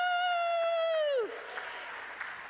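A commencement crowd at the SIUC 2021 spring ceremony breaks into cheering and applause after a rising-then-falling 'woo' call. The call fades into steady broadband clapping and whoops that carry on at moderate volume.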